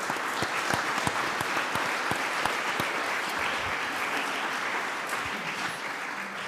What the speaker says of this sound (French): Applaudissons Vladimir et applaudissons Madame le maire